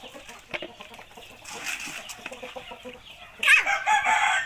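Chickens cluck softly in the background at feeding time, then a louder burst of squawking and clucking breaks out near the end.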